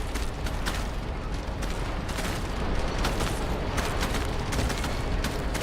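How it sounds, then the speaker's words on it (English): Cannon in the video game Egg Harvester firing in a dense, continuous barrage of loud blasts and booms, with no talk over it. "Oh, it's the cannon."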